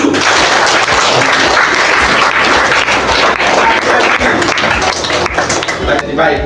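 Loud, sustained applause from a group of schoolchildren at a traffic-safety session in an elementary school classroom, dense clapping filling the whole stretch with voices faintly mixed in.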